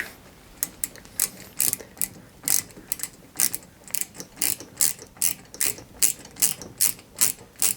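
Small screws are driven into the rear chassis and exhaust of a 1961 London Routemaster RM857 die-cast bus model, giving a steady run of about sixteen sharp, close ratcheting clicks with no talk.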